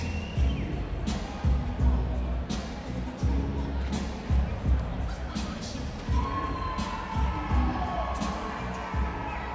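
Big crowd at an amateur fight night with no headgear or shin guards, a dense steady roar of cheering and shouting with thuds and bursts of yelling rising throughout.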